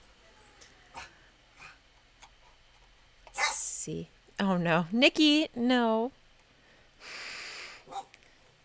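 A dog snorts and grumbles, then lets out a few loud, close barks in quick succession, with a person speaking briefly between them.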